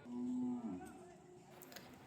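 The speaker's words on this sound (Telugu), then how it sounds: "ఇది జాఫ్రాబాద్ బర్రే" A single long, low moo from a Jafarabadi buffalo at a buffalo market, fairly close, tapering off into quiet background.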